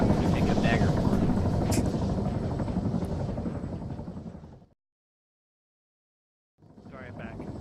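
A helicopter's rotor in the video game ArmA 3 thrums loudly and steadily, fading away before cutting to silence, then returning briefly.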